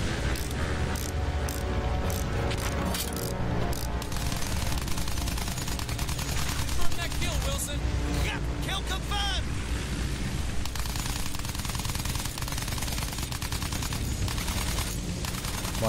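Rapid gunfire in the video game Battlefield 1, a dense, continuous clatter of automatic shots and mechanical rattling that stays loud throughout, with brief voice sounds in the mix.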